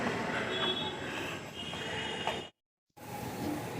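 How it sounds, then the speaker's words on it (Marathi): A crowded Mumbai local train leaving Ambernath station rumbles and rattles steadily with wheel and carriage noise, a brief dropout, then the clatter resumes close by. "मुंबई लोकल आहे आणि अंबरनाथमधून येथे सुटणारी गाडी आहे"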